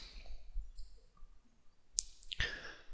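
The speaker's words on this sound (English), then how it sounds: "I'm going to click on that and open it" A computer mouse clicks a few times, sharp, close and quiet, including a quick pair of clicks followed by a single one over faint background hum.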